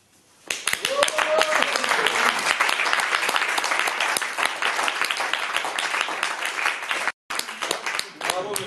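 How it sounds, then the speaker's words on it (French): An audience at a slam poetry evening bursts into loud, sustained applause after a performance, dense clapping filling the room for several seconds with a brief cut before it continues, and voices mixed in. "Et pour la poésie de Walter, faites du bruit, s'il vous plaît."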